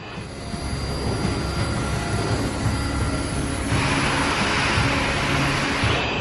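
Steady, loud roar of jet airliner engines on the runway before takeoff, a continuous broadband rush whose tone brightens partway through as the power rises, with no talking.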